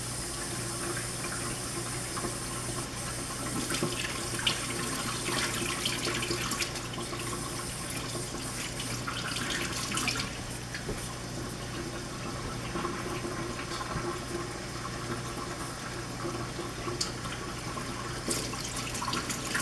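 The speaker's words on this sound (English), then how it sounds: "use cold water, rinse them off, just lightly rinse them" Cold tap water runs steadily over steelhead or salmon fillets in a sink, a continuous broadband splash that holds fairly constant for the whole stretch with no voices.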